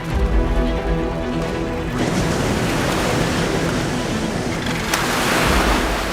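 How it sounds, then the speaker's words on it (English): Big ocean waves surge and crash onto rocks where macaroni penguins come ashore. The roar is loud and continuous, with a heavy surge near the start and another late, mixed with wind buffeting the microphone. "They seem to choose the biggest waves to give them a good run up onto the rocks"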